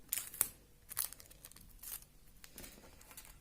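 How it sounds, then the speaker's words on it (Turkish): Adhesive tape is pulled from a roll and torn while a bead bracelet is being made, giving a few quick, close crackling rips and crinkles in otherwise quiet surroundings. "Şimdi bantlayacağım."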